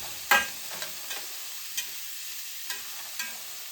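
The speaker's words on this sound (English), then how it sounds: "So we're gonna just let those saute there for a while." Bell peppers saute in butter in a pan, a soft faint sizzle with a few sharp spatula taps and scrapes spaced across a quiet background.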